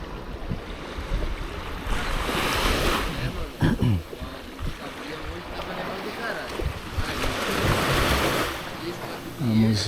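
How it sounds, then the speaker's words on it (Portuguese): Ocean waves wash over rocks along a sunny coastal trail between Canajurê and Canasvieiras, surging in swells amid wind buffeting the microphone, with brief voices in the background. "Aqui ainda dá para escorrer das ondas."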